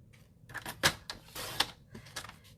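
Cardstock being measured and cut for a zig zag card, with sharp clicks and scraping strokes of a paper trimmer in short irregular bursts, close and fairly quiet.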